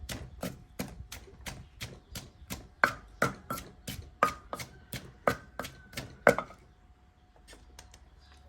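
A grandmother pounds noni fruit salad in a mortar, a steady run of about twenty evenly spaced thuds and knocks, close and fairly loud, stopping near the end with a quiet tail.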